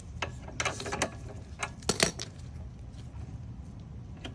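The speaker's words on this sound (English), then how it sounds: "let's remove this bolt" Bolt being worked loose on a Razor E200/E300 electric scooter swing arm: a quiet run of sharp metallic ratchet clicks and taps, clustered in the first half and then fading into near silence.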